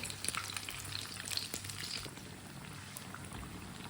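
Close, steady frying sizzle of a breakfast cooking in a pan and being flipped, with crackling pops and soft scraping that ease slightly in the second half.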